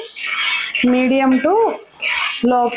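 Peanuts dry-roasted in a pan over a medium flame give rasping, scraping bursts of stirring that alternate with a person talking close by.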